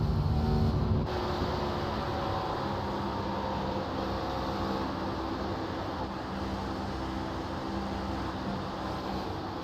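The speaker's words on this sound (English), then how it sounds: "Oh, he's feathering that throttle." Race car engine in a racing video game at Michigan International Speedway, a steady loud drone with the throttle eased and fed back in, running continuously for the whole stretch with a brief louder moment at the start.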